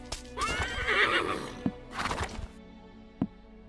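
A horse whinnies loudly, followed by a few sharp hoof clops, with a steady electronic hum underneath, in the MMO game Embers of the Uncrowned.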